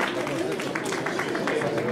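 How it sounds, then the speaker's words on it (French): Brief burst of audience clapping at an outdoor Armistice Day commemoration in Genappe, steady and moderately close, with murmuring voices mixed in. "On peut l'applaudir."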